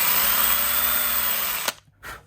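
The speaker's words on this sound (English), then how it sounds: "drill that a little wider" An electric drill widens a hole for a Squier Classic Vibe guitar setup, a loud steady whir running for well over a second, then cutting off abruptly and leaving a quiet gap and a brief, faint rustle.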